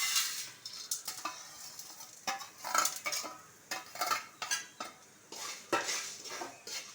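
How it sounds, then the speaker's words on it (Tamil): Spices and ingredients for pepper chicken are dry-roasted in a hot pan, with a utensil scraping and clinking against the pan in repeated stirring strokes over a faint sizzle, close and without talk. "சட்டி சூடானோடனே இது எல்லாத்தையும் நம்ம வறுத்துக்கணும்."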